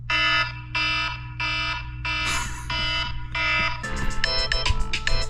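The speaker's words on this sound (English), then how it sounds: "Does anyone even use that alarm sound?" Harsh electronic alarm-clock beeping sounds in loud, evenly spaced repeated bursts, then shifts into a denser, faster warbling pattern near the end, over a constant low hum.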